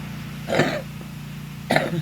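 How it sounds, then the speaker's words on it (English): Two short, rough coughs from a person with bronchitis, about a second apart over a steady low hum, fairly close and moderately loud. "Sorry for the coughing, I got bronchitis."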